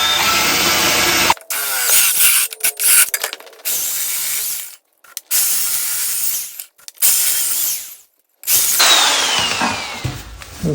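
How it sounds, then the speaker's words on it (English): A power drill whines loudly up close in several long bursts, cutting out abruptly between runs, with grinding bite as it drills an exhaust pipe hole on a John Deere LA165 lawn tractor. "I'm going to drill it right till it reaches the tape"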